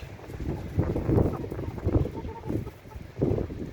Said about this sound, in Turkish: Çok da rüzgar var.